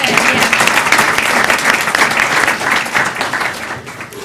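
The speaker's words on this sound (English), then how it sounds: "Another round of applause for Kristen" Audience applause for Kristen at a school board evening with children's artwork on show, steady and dense for the whole stretch, fading slightly toward the end.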